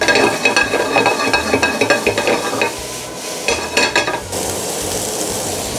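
A marinade for scallops sautés in a frying pan with very little oil, a close, crackling sizzle mixed with rhythmic scraping and stirring taps of a utensil against the pan, steady and loud without talk.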